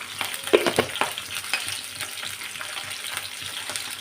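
Fenugreek and coriander seeds frying in a pan, a light crackling sizzle with a few sharp stirring scrapes early on, close and fairly quiet, no voices.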